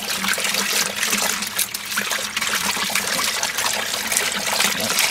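Water rinsing off glycerin degreaser, a steady loud trickling and splashing stream running continuously without pause.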